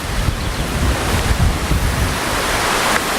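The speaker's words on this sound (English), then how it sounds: "Lovely waterfall." A waterfall fed by three joining streams roars as a loud, steady broadband rush, with heavy wind buffeting the microphone and no talk.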